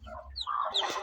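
A hen clucks softly a few times beside her newly hatched chicks, close and fairly quiet, with a sharper call near the end.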